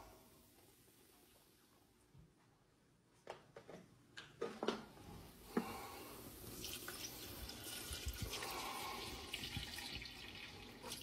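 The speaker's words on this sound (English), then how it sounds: "Now we're going to add our milk." Milk poured from a container into a roux in a cooking pot, a faint trickling that builds into a steadier splashing pour after a few clinks, close and quiet, with no talking.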